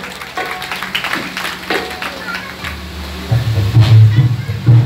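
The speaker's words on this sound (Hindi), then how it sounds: "एक जोरदार ताली आनी चाहिए ऐसे कलाकारों के लिए।" Village audience at a Ramayana stage event clapping for visiting musicians, a continuous wash of applause with a low hum and a brief rumble near the end, while someone speaks.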